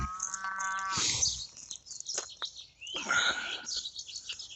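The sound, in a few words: cow mooing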